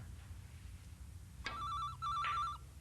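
An indoor telephone rings in two short electronic trilling bursts over a quiet room hum, with no talk.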